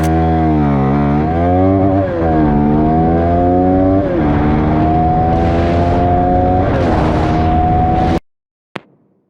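A CFMOTO 250 NK motorcycle engine revs hard and loud up close, its pitch climbing in stepped surges through about eight seconds of steady acceleration before cutting off abruptly, followed by a brief sharp pop.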